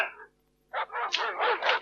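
Dogs barking in a rapid run of loud, close yelps and barks after a short pause, following a military order in a French-dubbed war film to bring the dogs into a tunnel.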